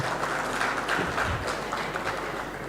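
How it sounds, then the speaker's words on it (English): An audience at a live partner meet event applauds the gentlemen on stage, a continuous wash of clapping across a large hall, fairly loud and even without breaks. "A big round of applause for all the gentlemen on stage."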